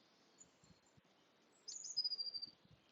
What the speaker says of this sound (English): the sound of the birds, or whatever noises might be around you this morning